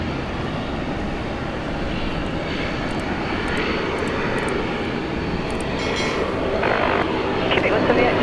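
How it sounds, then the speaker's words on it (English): An airliner departs Sydney International Airport for Queenstown, New Zealand, its engine roar steady and broad, swelling slightly toward the end, with talk over it. "Flight 223 heading off to Queenstown,"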